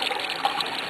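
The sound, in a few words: water running to wash something off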